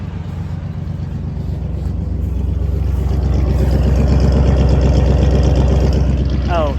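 Engine of a 1985 square body truck idling smoothly, a steady low rumbling throb with an even beat, loud and close, running alone without any talking.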